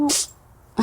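A single quick, sharp sneeze bursts out at the start, followed by a short pause and a voice beginning to speak.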